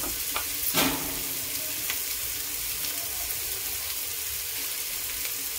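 Onion frying in a pan with Malvani masala, a steady soft sizzle throughout with a brief louder stir or scrape near the start, no voices.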